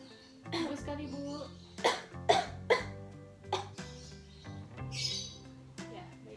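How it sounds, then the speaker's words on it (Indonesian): During chest physiotherapy, a patient gives a series of four or five hoarse, moist coughs in quick succession to clear phlegm, close and moderately loud in a quiet room with low background hum. "Lalu langsung batuk dan buang dahaknya ke sini ya Bu"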